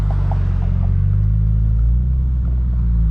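A Subaru BRZ tS exhaust heard from inside the car, a loud, steady low rumble of the engine droning at a fairly even pace throughout.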